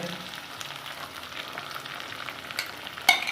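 Beaten egg mixture frying in a hot pan for potato and egg curry, a steady close sizzle with light spatula scraping and a sharp clink near the end.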